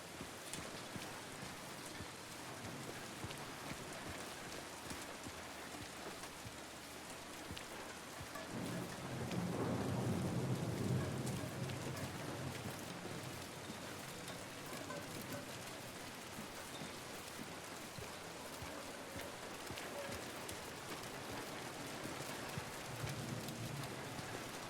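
Steady rain with rolling thunder in the Silent Hill 2 game ambience, a continuous wash that swells into a louder rumble around the middle before settling back to the constant downpour.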